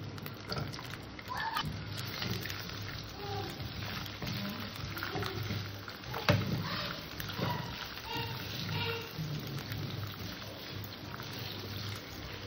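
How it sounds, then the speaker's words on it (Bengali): Potato pieces fry in hot oil with a steady, fairly quiet rain-like hiss and crackle that continues without a break, with an occasional soft knock. "এই তেলের মধ্যে আলু কটাকেও ভেজে নেব"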